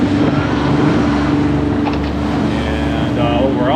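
A boat motoring under engine power on a windy day, a loud, steady engine drone with constant harmonic hum and wind rush throughout, no pauses.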